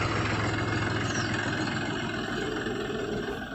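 A Mahindra 265 DI 30-horsepower tractor engine idles steadily, a low, even diesel rumble with a throbbing rhythm, close and continuous.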